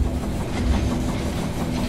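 A train arrives at a station in the video game They Are Billions, a loud, steady rumbling clatter with rhythmic rail noise and no voices.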